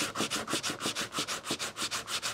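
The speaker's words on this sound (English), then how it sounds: "And then I'll start with the sandpaper." Sandpaper rubbed by hand over a carved hardwood sculpture, about a dozen even back-and-forth strokes in a quick steady rhythm, close and clear with no voices.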